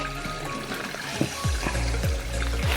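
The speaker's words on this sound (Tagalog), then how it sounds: "So, dinig natin yung lagaslas ng tubig." Rushing stream water on a rural property in Caluag, Quezon, a continuous close splashing flow with repeated gurgling surges.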